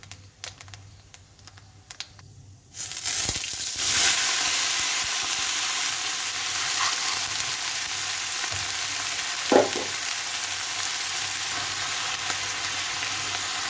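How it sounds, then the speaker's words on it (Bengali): Cauliflower and cabbage with turmeric and salt fry in a pot, a quiet tapping at first giving way to a loud, constant sizzle with one sharp clatter of stirring. "সবজিটা এখন এখানে ভেজে নেব"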